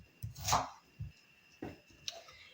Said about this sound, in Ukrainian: Для засмажки беру одну цибулинку, ріжу дрібними кубиками